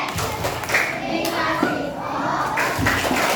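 A lively classroom of children doing a 'good job' clapping chant and cheering together, a busy wash of hand claps and high excited voices throughout.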